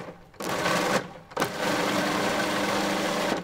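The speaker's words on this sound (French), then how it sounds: "je vais donner 3-4 pulsions pour mixer les lardons" A Magimix food processor pulses to chop bacon lardons, giving two loud, close motor bursts: a short one and then a longer, steady whirring run.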